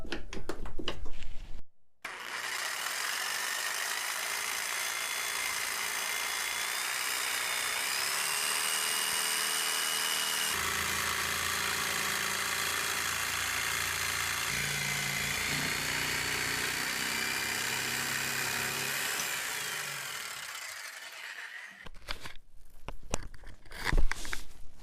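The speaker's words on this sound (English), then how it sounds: "I can now clamp my piece to the bench and start cutting with a jigsaw." A jigsaw cuts wood pieces for a drawer organizer, giving a steady, loud, high buzzing whine for about twenty seconds, with brief handling noises before and after.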